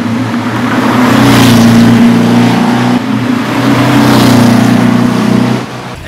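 An air-cooled 1971 Porsche 911T engine with an SS143 quiet sport exhaust idles and blips with a deep, throaty exhaust burble, close and loud, swelling slightly before settling lower.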